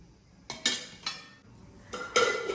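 Metal pots and utensils clank in a home kitchen while sambar is tempered, several sharp clattering hits in uneven bursts, close and fairly loud, with no voices.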